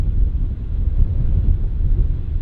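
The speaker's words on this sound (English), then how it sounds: "It's windy, all right." Strong wind buffets the microphone at an Arctic ferry landing, a continuous low rumbling roar with gusty swells and no voices.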